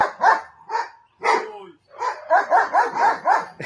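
A dog barks and yips repeatedly at close range, short sharp bursts coming in a quick, uneven rhythm with brief pauses between.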